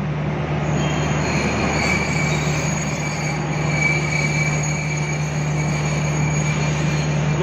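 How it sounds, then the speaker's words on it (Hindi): A passenger train slowing at Wazirabad Junction station: a steady loud rolling rumble of wagons on rails with a constant low hum and a thin high brake squeal running throughout. "ट्रेन रुकने लगी है।"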